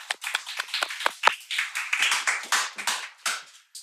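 An audience claps for a departing professor at a university history-hall talk concert, Hanyang University; individual claps ring out close and scattered rather than a dense roar, steady for about four seconds with no talk.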